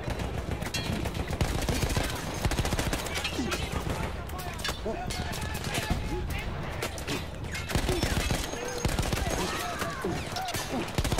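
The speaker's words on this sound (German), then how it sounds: "Hier knallt es an jeder Ecke." Heavy gunfire in the World War I shooter Battlefield 1, with dense bursts of automatic and rifle fire crackling continuously, loud and near, with explosions and battle noise layered throughout.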